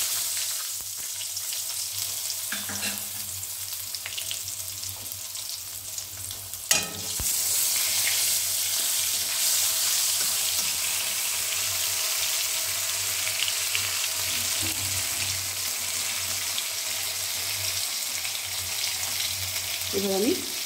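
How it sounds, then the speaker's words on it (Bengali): Tomato dropped into hot oil after tempering spices sizzles and crackles steadily, with occasional stirring clinks and scrapes, close and continuous. "এবার আমি টমেটোটা ওই তেলে দিয়ে দিচ্ছি।"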